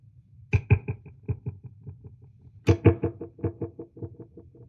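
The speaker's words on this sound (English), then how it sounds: "So now we're getting this multi-tap sound." Multi-tap delay from a Morley effects pedal, with two plucked guitar attacks each followed by a train of fading, evenly spaced repeats.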